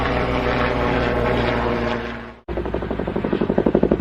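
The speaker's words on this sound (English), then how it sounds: "Agriculture helicopter." An agriculture helicopter drones loudly with a steady engine whine, then after a sharp cut its rotor beats return as rapid, strengthening rhythmic chops.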